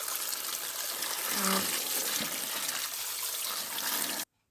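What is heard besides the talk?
water washing flat beans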